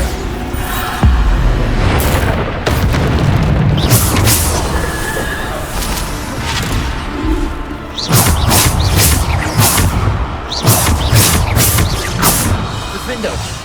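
Bombarda spell explosions in the video game Hogwarts Legacy, several loud booming crashes and thuds in clustered bursts amid busy combat noise, with a voice calling spell names over them.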